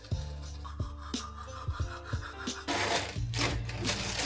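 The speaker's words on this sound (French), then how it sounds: "on se brosse les dents" A toothbrush scrubs teeth in a bathroom routine, with short scratchy strokes that start sparse, then turn into a louder, steady rapid brushing close to the microphone.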